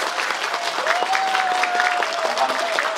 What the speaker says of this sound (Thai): ขอให้ท่านส่งแรงใจมาและปรบมือดังๆให้กับพี่ทั้ง3ท่านด้วยเป็นแรงใจนะครับ